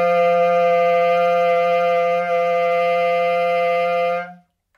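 A bass clarinet plays a raucous multiphonic topped by a high D, a loud, steady, buzzing chord of stacked tones held for about four seconds before cutting off cleanly.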